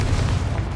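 A Confringo spell detonates in Hogwarts Legacy with a single loud, brief, bass-heavy boom.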